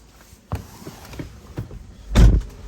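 A Tesla car unlocking: a few soft clicks and thumps, then a louder mechanical whir and clunk near the end, close by with no talking.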